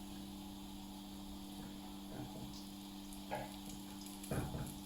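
Oxtail pieces sizzle in very hot, smoking oil in a pot, with a steady quiet crackle and a few louder spits as more meat goes in.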